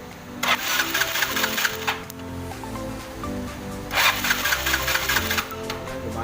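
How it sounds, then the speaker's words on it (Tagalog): The ignition on a Yamaha Mio Sporty scooter that will not start crackles in two bursts of rapid, evenly spaced sparking ticks, close up with a dull background hum in between. "Kita nyo naman lumalagitik ang kuryente niya"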